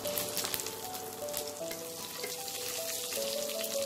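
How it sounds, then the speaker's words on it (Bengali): Cumin seeds and a bay leaf fry in hot mustard oil with a bright, crackling sizzle held close and steady throughout, no talking over it. "আর সাদা জিরে ফোড়ন দেবো"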